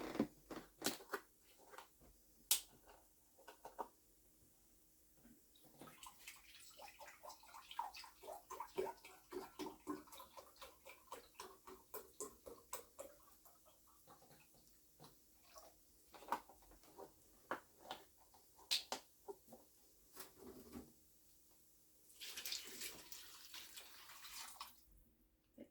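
Beef broth pours into a pot of chili in a home kitchen, a close, soft, uneven trickle and splash in bursts with small drips, quiet and without talk.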